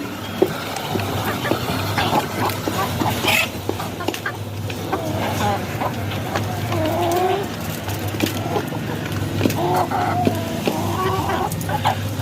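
A flock of desi hens mixed with newly added birds clucks under a tree on a hot day, with scattered soft clucks and calls rising over a low steady background hum.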